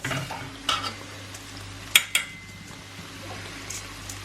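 Rump steak fries in a pan with a faint, steady sizzle, punctuated by a few light metallic clinks and scrapes of a utensil against the pan; no voices.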